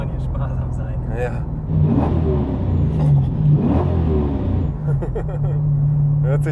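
A Subaru BRZ with a swapped 500 hp LS3 V8 accelerates hard in second gear, the deep engine roar rising and falling through revs while someone talks over it inside the car.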